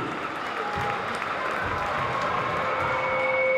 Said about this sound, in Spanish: Vamos a recibirlos ya con ese fuerte aplauso a Eva y a David.